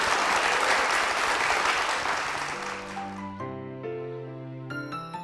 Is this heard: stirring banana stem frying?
no